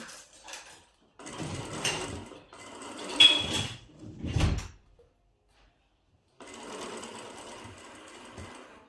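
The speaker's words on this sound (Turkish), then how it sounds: "yarım ayak genişliğinde dikiyorum" A sewing machine stitching a decorative pillow runs in several close bursts of whirring stitches, broken by a thump, a pause of near silence, then a steady final run.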